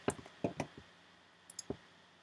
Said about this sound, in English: So you're going to click on your comp right here.